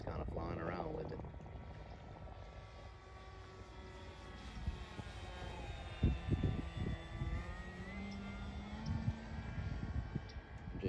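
An FMS 2000mm Beaver V2 RC model plane flying at about quarter throttle, its propeller drone rising and falling steadily at a moderate distance while someone talks over it and wind buffets nearby.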